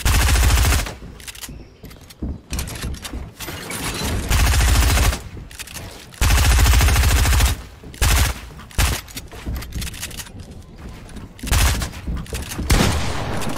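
Rapid bursts of gunfire ring out in the Fortnite video game, several loud, close volleys separated by brief quieter gaps, dominating the mix.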